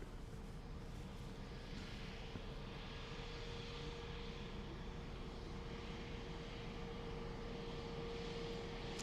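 Steady, continuous jet engine roar of an Emirates aircraft at Dublin Airport, heard from a distance with a constant low rumble and a faint sustained whine, without talk.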